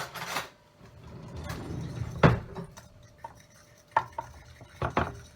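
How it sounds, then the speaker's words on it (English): A fork whisks ginger cake batter in a bowl, with scraping and clinking at close range and sharp taps of metal against the bowl's side. "I'm supposed to whisk that, but my whisk is all gooey, so I'm just going to use a fork"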